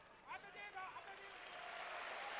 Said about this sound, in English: listen to the Singapore fans applaud them